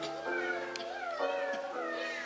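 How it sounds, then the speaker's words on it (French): A cat meows as a theatre sound effect, several drawn-out, wavering cries in quick succession, soft and fairly distant over a quiet background. "Il entend les miaulements d'un chat."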